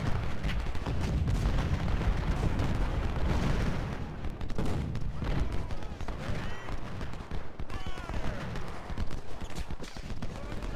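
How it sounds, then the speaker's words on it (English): Artillery from a Civil War battle in Ultimate General: Civil War, including a 24-pounder cannon, sounds as continuous loud booms and rumbling over dense battle noise, with a voice talking throughout. "I wanted to be able to get my 24 pounder to shoot"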